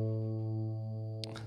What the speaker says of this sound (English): I really like reverb, so I'm going to have another because